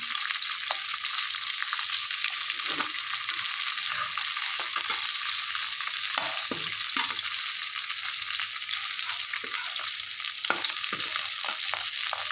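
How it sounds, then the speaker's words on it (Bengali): Hilsa fish tail pieces fry in a pan over a gas stove turned up high, giving a continuous loud crackling sizzle with scattered pops and occasional stirring scrapes, no voices. "গ্যাসের জোরটা বাড়িয়ে দিলাম, দিয়ে এগুলো আবার একটু লাল লাল করে ভেজে নেব"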